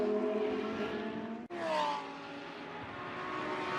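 Lamborghini Huracan Super Trofeo Evo race cars at Mid-Ohio, a loud engine drone with a sharp gear change mid-clip, then a steady roar as the cars pull away.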